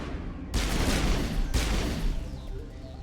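Sniper fire in the Mass Effect video game: two sharp, booming shots about a second apart, each with a long rolling tail, loud and close.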